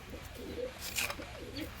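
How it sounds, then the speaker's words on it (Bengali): A racing pigeon at a high-flyer pigeon tournament in Shantipur coos softly. A few low, rolling coos repeat over faint background noise, quiet and fairly close. "আরও একটা পায়রা তোমাদেরকে দেখাচ্ছি"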